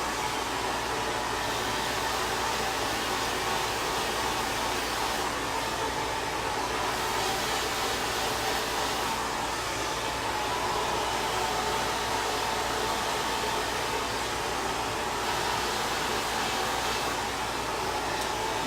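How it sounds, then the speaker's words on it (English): Hot hair dryer blowing on a client's hair in a salon, a loud continuous rushing whoosh that holds steady throughout without any talking. "I like dryers like this, I'll tell you why. They're really warm and they're really hot and they dry the hair really well"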